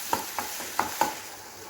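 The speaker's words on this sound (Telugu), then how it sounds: "ఆయిల్ పెట్టుకొని 1 స్పూన్ అల్లం పేస్ట్ వేసుకుందాం. పచ్చి వాసన పోయేంత వరకు కలబెట్టుకుందాం." A spoon of ginger paste stirred in hot oil in a pan, with four quick scraping strokes over a steady soft sizzle, close up and without any voices.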